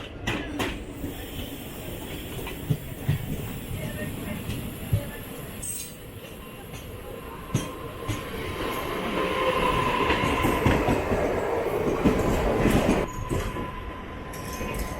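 The Surat–Mumbai Flying Ranee Express rolls into Mumbai Central terminus past the Mahalaxmi workshop, moving from suburban onto main-line tracks; steady, loud rumble of wheels and carriages with occasional clanks and squeals throughout.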